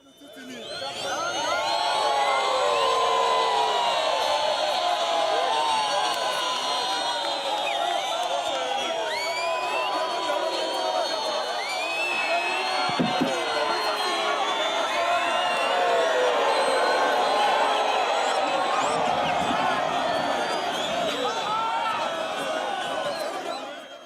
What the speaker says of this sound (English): Whistles and sounds of joy were heard from the throngs of Eswatini when His Majesty entered the Ketlibrayam.